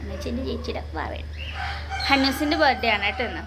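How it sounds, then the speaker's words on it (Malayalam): Early-morning rooster crowing at dawn, faint and distant, with someone talking close by over it, plus a steady low hum throughout. "കോഴി കൂവുന്ന സൗണ്ട് കേൾക്കുന്നേ ഉള്ളൂ."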